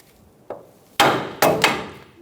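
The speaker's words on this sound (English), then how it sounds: "Using a hammer, we're going to bonk the knuckle on the side to release the tension on the ball joint." A hammer bangs sharply on a steering knuckle, one light tap followed by three heavy, ringing strikes in quick succession, close up with no talking, during control arm replacement on a 2014-2018 Chevrolet Silverado.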